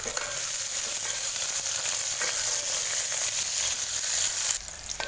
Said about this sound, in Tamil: அது இதில் சேர்த்துட்டு வெங்காயத்தை வதக்கி விட்டுக்கலாம்.